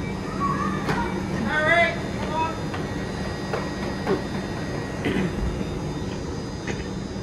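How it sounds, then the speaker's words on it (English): Cooling fans whir steadily aboard a Hitachi AT300 train, a constant airy hum with faint tonal lines, while a voice speaks over it at moderate level. "So I believe the sound that we are hearing now is just some cooling fans running."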